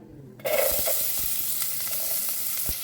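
Chopped onion dropped into a little hot oil bursts into a sudden loud sizzle, then keeps up a steady close frying hiss broken by a few light taps.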